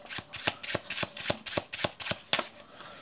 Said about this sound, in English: we can give these a bit of a shuffle